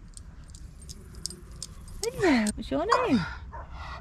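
A dog from another narrowboat makes a few short whimpering, whiny yelps up close, rising and falling, while someone talks to it and keys jangle faintly.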